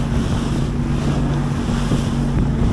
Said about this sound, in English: we're just getting big walls of water coming at us